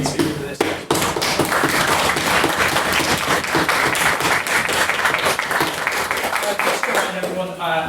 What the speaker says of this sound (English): I'd like another round of applause for being the speaker for this